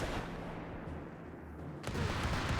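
Grenade assault explosions in Company of Heroes 3, a World War II strategy game, amid heavy battle noise: rumbling blasts and gunfire under a continuous din, with a sharper burst near the end.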